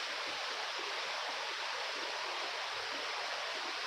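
Heavy rain pouring down outdoors at a truck stop, a constant dense hiss of falling water with no variation, faint and steady throughout.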